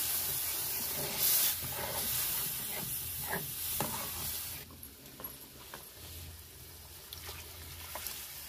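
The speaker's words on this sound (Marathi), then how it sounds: "तर आता मी आहे ना पाणी टाकते." Water hits hot fried masala in a pan and sets off a loud hissing sizzle that gradually settles into a quieter, steady bubbling steam, with no talking.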